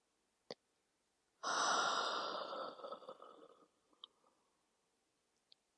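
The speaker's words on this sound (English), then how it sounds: "Nice big breath." A deep, audible breath during a yoga class, a long drawn breath that swells and slowly fades over about two seconds, close and fairly soft, with small clicks before and after and no talk.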